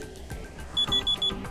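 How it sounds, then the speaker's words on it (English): An alarm clock melody previewed on an Honor 8 phone plays loud and close, with repeating electronic tones and a quick run of four sharp beeps in the middle, no speech. "now you can pick one of those melodies as your alarm sound"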